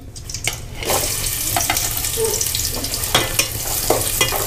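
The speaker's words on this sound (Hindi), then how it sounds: "तेल हमारा गर्म हो चुका है प्याज जो चॉप करके रखे थे अब उसमें डाल देंगे" Chopped onions hit hot oil and fry with a steady, dense sizzle for mutton korma, with a few sharper crackles and spatters popping over the continuous hiss.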